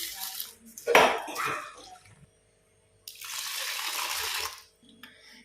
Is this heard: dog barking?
no